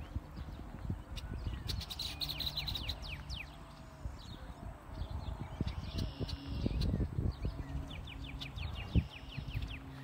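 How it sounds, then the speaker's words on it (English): Birds chirp and sing outdoors on a spring day in Texas, with repeated high calls scattered across the whole stretch over a steady low background rumble and some thumping. "Can you hear the birds?"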